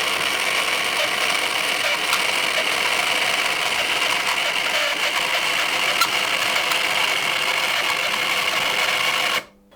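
Small electric motor of a model train runs with a steady, close whirring hum and faint rattle for several seconds, then cuts off abruptly at the end.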